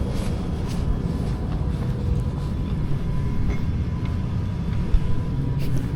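A Piccadilly Line underground train rumbles at Cockfosters Depot, a loud, steady low roar with rail noise running throughout and a brief clunk near the end, with no talk.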